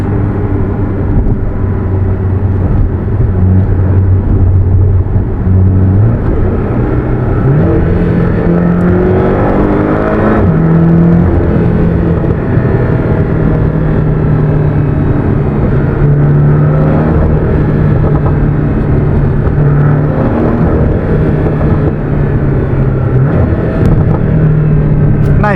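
Porsche Boxster engine revving loudly and continuously, with harmonic rises and falls in pitch as the revs climb and drop, heard from close range with no talking over it; individual pops and gurgles are not distinctly visible.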